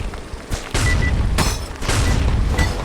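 Cannon fire in a Roblox game: a run of heavy booms and thuds in quick succession, loud and close, with blasts overlapping into a dense rumbling barrage.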